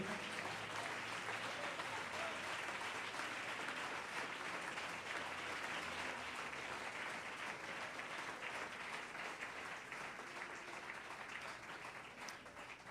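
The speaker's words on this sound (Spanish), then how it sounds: "Denle un aplauso al Señor" A church congregation gives a sustained round of applause to the Lord during a sermon, a continuous crowded clatter of clapping that holds steady and eases slightly toward the end.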